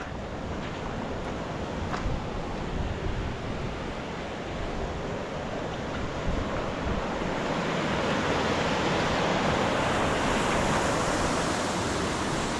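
Floodwater of the Gad river in heavy Konkan monsoon rain rushes beneath a village bridge in a constant, dense roar, loud and steady throughout with no voices.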